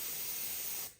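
Paint is sprayed from an airbrush onto a resin model grain wagon while weathering it, giving a close, steady fine hiss that tapers off at the end.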